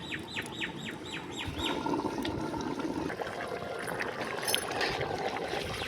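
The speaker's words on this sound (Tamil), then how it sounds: "கொதிக்குதுங்க, சவுண்டு கேட்குதுங்களாங்க?" Chicken biryani, a 1 kg batch, boils in a tabara pot with a steady, dense bubbling hiss. Birds chirp and tweet clearly over it, most busily near the start.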